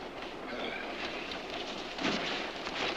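A train runs along the rails with a steady, rumbling roll and faint rhythmic clatter, heard alone at moderate loudness.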